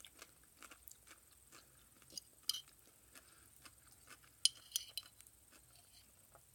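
Quiet, crisp crunching bites recur at irregular intervals, the sound of something crunchy like pickles being chewed close up, with a few louder snaps.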